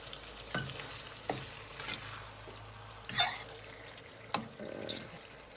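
Ackee and saltfish stirred in a frying pan, soft scraping spoon strokes over a low sizzle, with a few brief clattering knocks and a splashy burst midway, fairly quiet and close.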